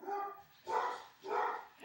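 A dog barks three times in close succession, loud and near, each bark a short burst with a brief gap between, with no speech over it.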